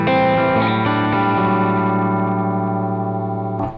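Electric guitar played through a Retro Channel Gjika preamp and power amp, tube-style and with a Marshall-like bite, rings out as one loud, sustained distorted chord that slowly decays and then cuts off.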